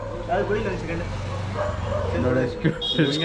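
A dog barks and yips in short bursts close by, mixed with people talking.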